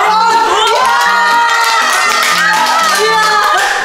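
A small group at a housewarming gathering cheers and whoops loudly and excitedly, with overlapping high voices shouting continuously throughout.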